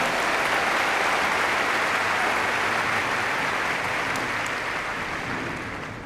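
The Wimbledon crowd applauds during a 2009 semi-final between Serena Williams and Elena Dementieva, a dense, sustained wash of clapping that gradually fades toward the end.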